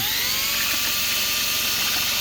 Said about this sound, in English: And I got this drill pump right here.